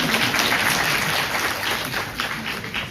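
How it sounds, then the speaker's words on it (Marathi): An audience claps at a Women's Day speech, a dense wash of applause at fairly close range that holds steady for a few seconds with no talk over it. "टाळ्या वाजवा मनापासून."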